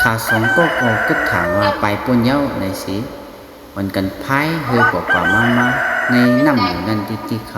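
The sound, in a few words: rooster crowing sound effect in a narrated story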